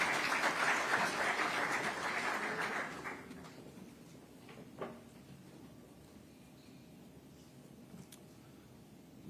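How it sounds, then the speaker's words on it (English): Conference audience at an economic forum breaks into a round of applause, dense clapping that is loud at first and fades out after a few seconds, leaving a quiet room with a few faint knocks and shuffles. "Edwin, please, a round of applause."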